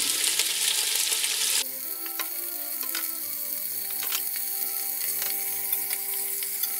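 Pork shank browning in hot oil in a pan, a steady close sizzle that is loud at first, then settles to a softer, even frying hiss with faint clinks of utensils.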